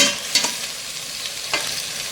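A spoon stirs chopped papaya into chicken tinola in a pot, with a steady soft sizzle and a couple of brief scraping clinks against the pot.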